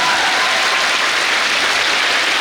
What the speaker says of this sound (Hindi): एक बार अपने मम्मी पापा के लिए जोरदार तालियां बजा दीजिए